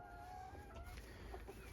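A German rooster clucks softly in a breeding pen, giving a few short low calls under a constant hum of background noise.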